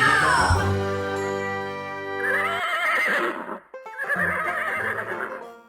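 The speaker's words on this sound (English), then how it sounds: "Yes, it's Harry the horse, proud to be your helper." A horse gives several loud, close whinnies in quick succession, rising and wavering calls separated by brief pauses, with faint jingling bells behind them.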